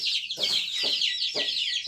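Young chicks and hens clucking in an enclosed poultry room, a few short, close clucks repeating in quick bursts with no talking.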